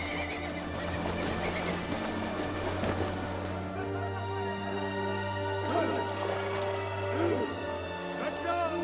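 A herd of horses crossing the Lena River to Toyon Ary island, with repeated whinnies and neighs over a dense, steady wash of water, hoof splashes and men calling out.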